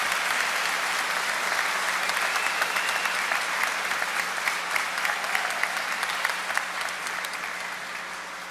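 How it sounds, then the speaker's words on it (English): An audience at an awards event applauds steadily, mid-distance clapping from a moderate crowd that holds evenly and then begins to taper slightly toward the end. "Please give a huge round of applause to Mr. Austin Schlegel for his accomplishments."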